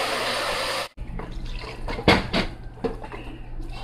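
Water pours steadily into a pot for fufu for about a second, then stops. A few clinks and knocks of the pot and utensils follow.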